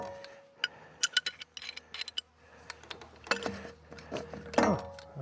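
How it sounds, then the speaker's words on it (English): A pipe wrench clanks and ratchets while gripping a broken pipe nipple, giving a run of sharp metallic clicks and knocks with short pauses, close and moderately loud, with no speech. "I need the pipe wrench to grab the broken nipple"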